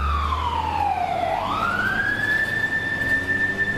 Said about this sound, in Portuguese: Você vê aí o constante alarme, o soar da sirene por todos os lados.